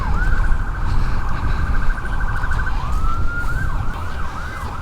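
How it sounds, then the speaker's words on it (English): A loud ambulance siren wails steadily near Kewalo Basin Harbor in Honolulu, first a rapid warbling yelp, then slower rising-and-falling sweeps over a low background rumble. "Yeah, it's an ambulance."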